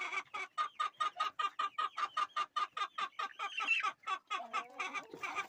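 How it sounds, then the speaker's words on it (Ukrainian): A hen clucks in a quick, steady rhythm of short repeated notes, fairly close and continuing throughout with no other sounds. "Курка цукорить."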